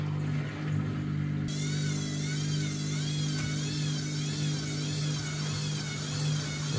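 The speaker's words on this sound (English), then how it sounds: "The machine is wobbling." A Bosch WFF1401 washing machine after a bearing replacement, wobbling in its spin cycle, giving a loud steady motor drone with a wavering, rising whine and rhythmic pulsing close up.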